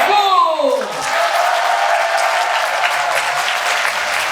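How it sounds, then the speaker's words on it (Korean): A church congregation bursts into warm, sustained applause during a Bible-reading event, many hands clapping together in a dense, even wash that begins right after a voice and carries on steadily to the end. "박수!"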